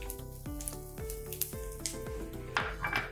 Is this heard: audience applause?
no